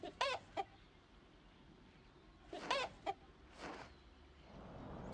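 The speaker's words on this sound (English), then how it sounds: "The hens wake, well and happy in their hutch." Hens clucking in the Animal Farm video game, sitting in their hutch on waking. There are two short bursts of clucks and a softer third call, close and clear over a steady low background hum.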